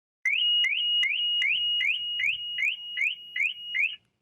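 A Maruti car's find-my-vehicle alarm chirps in a fast, regular series of about ten rising electronic beeps, loud and close, then cuts off abruptly.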